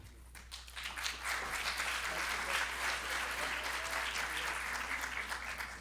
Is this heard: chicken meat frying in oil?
no